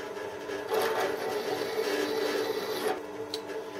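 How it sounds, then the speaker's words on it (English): A tool countersinks holes in the top plates of a Gingery milling machine work table, giving a faint, grinding whir that swells after the first second and eases off near the end. "Just countersinking the holes in the top plates of the work table."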